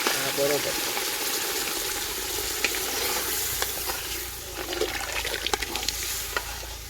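Thick boiled pigeon pea dal pours and splashes into a hot pan with a steady sizzle, followed by bubbling and stirring noises.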